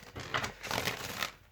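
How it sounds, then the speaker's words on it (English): Angel cards being shuffled thoroughly by hand: a run of soft, papery riffling and crinkling bursts in quick succession, close up and fairly quiet, with no talking. "I'm just shuffling up these angel cards really, really good, so we get the right message."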